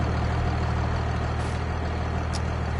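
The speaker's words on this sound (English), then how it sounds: "Them tractors, you hear them all day." A tractor engine in Farming Simulator 22 runs at a steady, heavy low rumble with a constant idling drone and a couple of brief hissing bursts, close and unbroken by voices.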